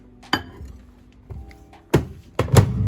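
A microwave oven door is handled while oats with water are put in to heat: a sharp clunk, a softer knock, then two loud thumps close by in a quiet kitchen.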